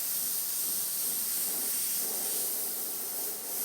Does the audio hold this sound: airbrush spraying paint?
yes